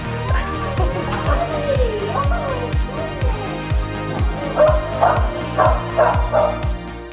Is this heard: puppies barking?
yes